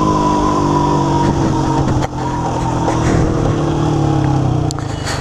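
Honda Start 160 motorcycle pulling in third gear, a loud, close, steady engine drone with a brief dip near the middle, then holding its strained pitch without climbing much, no talking.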